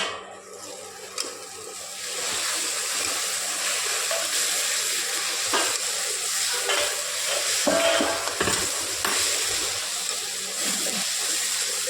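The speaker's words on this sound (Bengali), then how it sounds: "হালকা বেশি লাল হয়ে গেছে লঙ্কাটা, তেলে ভাজতে শুরু করেছে।" Dried red chilies frying in hot oil, a loud, close, continuous sizzle with irregular crackles and scraping stirs against the pan, steady for about twelve seconds with no voices.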